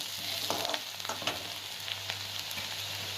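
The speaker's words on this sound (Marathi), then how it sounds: "त्यात लगेच लसूण म्हणून आणि लसूण सुद्धा एक मिनिटभर परतायचं" Garlic sautéing in a pan with onion already browned, giving a steady, close sizzle with occasional soft stirring scrapes and no voices.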